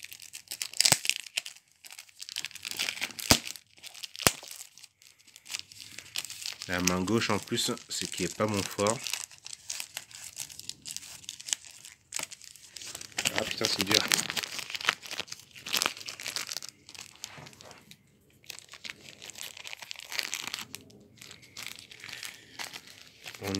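Plastic wrapping on collector's edition cards from a Nadia: The Secret of Blue Water Blu-ray/DVD set is crinkled and torn open one-handed, with loud, close, irregular crackling bursts while someone talks throughout.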